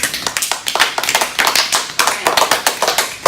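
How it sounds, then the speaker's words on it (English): Classroom students clap together during a social studies lesson. The claps are close and sharp, coming in quick, somewhat uneven bursts that continue steadily for a few seconds. "All right, give them a round of applause."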